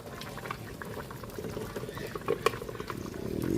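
Lechon sauce pouring into a pan of simmering paksiw na lechon, a soft liquid pour over steady bubbling that swells louder toward the end.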